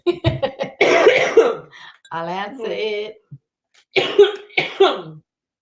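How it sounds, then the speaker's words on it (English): A few sharp coughs at the start, followed by a person talking in a tired voice. "My cough contagious."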